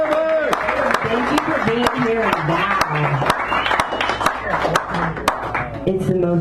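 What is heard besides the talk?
audience applause at a poetry reading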